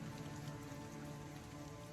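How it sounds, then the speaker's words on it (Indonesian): Steady rain pours down on a mountain trail on Mount Kerinci in a continuous, even wash of sound, with no voices over it. "Hujan nggak berhenti-berhenti"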